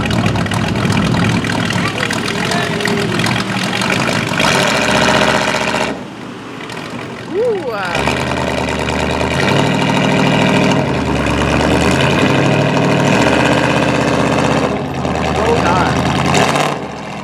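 A digger with its front axle broken off fires up and runs at a steady, throbbing idle throughout, with people talking over the engine noise.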